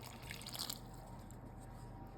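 A cup of water poured into chocolate cake batter in a home kitchen gives a faint, brief splashy trickle that settles into quiet background hiss.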